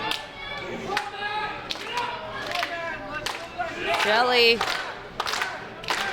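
A wrestling show crowd in a London music hall cheers and claps, with thuds and whoops rising and falling, while a commentator talks over the noise.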